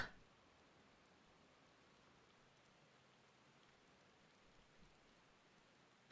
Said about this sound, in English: Amidst the sound of falling rain